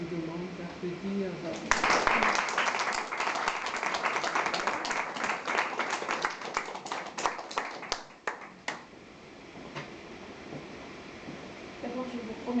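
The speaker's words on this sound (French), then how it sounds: "Je vous demande d'applaudir." An audience bursts into loud, dense applause at a cultural association event, many hands clapping steadily for several seconds before thinning to scattered claps and fading, with a voice speaking faintly around it.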